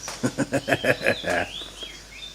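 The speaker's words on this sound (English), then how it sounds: "There's a bird in the tree playing my tune." A bird sings in a tree with a quick run of six or seven evenly spaced chirping notes, then a couple of softer trailing whistles, clear and moderately close, with no other sound nearby.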